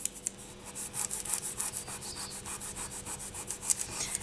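Paper is rubbed over polymer clay to press watercolour onto it, producing soft, quiet rhythmic scratchy strokes in a steady back-and-forth pattern, close and alone.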